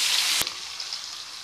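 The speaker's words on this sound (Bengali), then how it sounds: "তেজপাতা হালকা ভাজা হয়ে গেছে, মশলার পেস্টটা অ্যাড করে দিচ্ছি," Spice paste goes into hot oil with bay leaves in a pan for an egg curry with cauliflower, a bright sizzle that bursts out, briefly thumps as it lands, then settles into a softer steady frying hiss.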